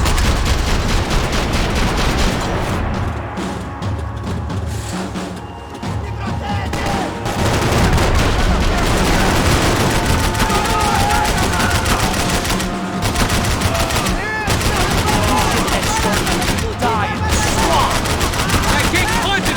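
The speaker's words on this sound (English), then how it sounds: "I can't concentrate with bullets whizzing past my head!" Dense video-game gunfire from Max Payne 3 rattles almost nonstop, with bursts of automatic fire and sharp shots layered over action music and background effects.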